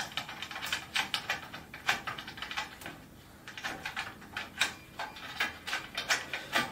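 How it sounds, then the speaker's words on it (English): Bolts being finger-tightened into a metal table frame, a run of quick, close metallic clicks and rattles coming in bursts with a short pause midway. "put the holes on the frame, just pop a bolt in, finger tighten."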